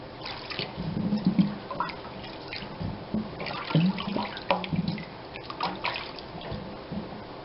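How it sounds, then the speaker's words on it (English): A hose sprayer rinses a batch of apricots with water, giving irregular bursts of splashing and trickling that rise and fall close by. "we're going to use the hose and sprayer to give them a final rinse"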